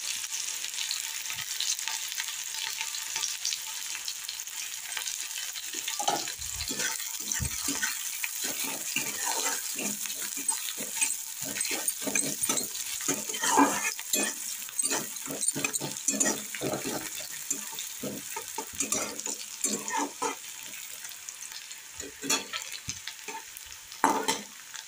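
Onion fries in oil in a pan for a vermicelli upma, a soft continuous sizzle broken by frequent spatula stirs and scrapes, close and moderately loud, with no one speaking.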